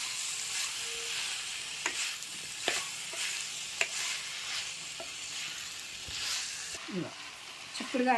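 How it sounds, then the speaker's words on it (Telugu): Half a kilo of cluster beans (gokarakaya) stirred in a hot pan for an egg curry: a soft, continuous sizzle broken by scraping spatula strokes, with a brief voice near the end. "గోరుచిక్కుడుకాయ వేసిన కదా, ఇది ఇట్లా మంచి కలుపుకున్నాలి మనం"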